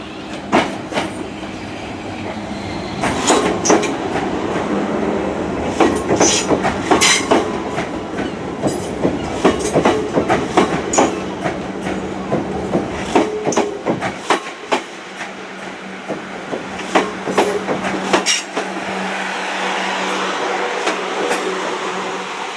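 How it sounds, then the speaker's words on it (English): Class 444 South West Trains Desiro electric unit departing Weymouth for London Waterloo, a continuous rumble with repeated rail clicks and clatter as it pulls away, loud and close, fading toward the end. "departing now is class 444, South West Trains Desire unit to London Waterloo"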